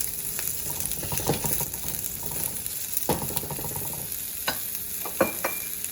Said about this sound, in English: I'm going to toss my mushrooms around, incorporate it with the onions as well as the garlic and the ginger